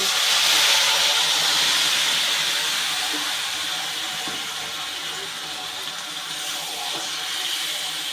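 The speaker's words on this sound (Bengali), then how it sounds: "এবার দিয়ে দিচ্ছি ম্যারিনেশন করা মাংস" Marinated chicken pieces hitting a hot pan for a Bengali chicken curry, giving a steady, loud, broad sizzle and hiss that gradually settles to a constant frying roar.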